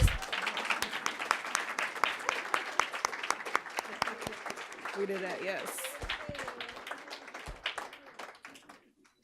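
A conference audience at an economics event claps in sustained, dense applause that fills the room, with a voice speaking briefly over it before the clapping thins out toward the end.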